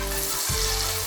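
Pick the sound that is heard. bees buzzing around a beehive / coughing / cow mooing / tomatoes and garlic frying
tomatoes and garlic frying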